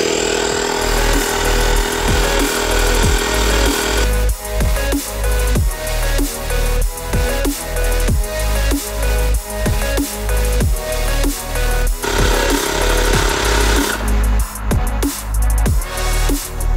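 A YANTU cordless tire inflator pumping up a flat car tire from 5 to 32 PSI, a loud close mechanical chugging hum with rapid steady pulses, its pitch shifting partway through.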